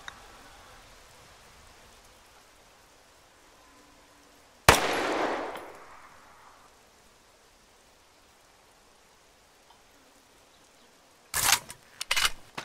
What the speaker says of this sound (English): They're just shooting at the ladders